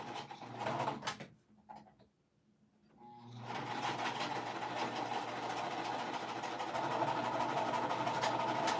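A home sewing machine stitching quilting pieces: a brief burst of stitching, a short pause, then a steady, fast mechanical whir with a rhythmic chatter that runs on without stopping, close and fairly loud, with no talking.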